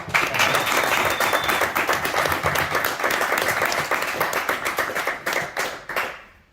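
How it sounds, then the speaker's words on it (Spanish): An audience claps for Pedro at a comic book presentation at Norma Comics, a steady round of applause that tapers off at the end, with no talking over it. "Un aplauso para Pedro."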